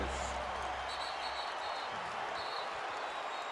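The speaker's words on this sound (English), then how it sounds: "Listen to this crowd." Crowd noise fills a basketball arena at the Staples Center, Lakers hosting the Raptors in 2006: a steady, dense roar with a few whistle-like tones over it, continuous and loud throughout.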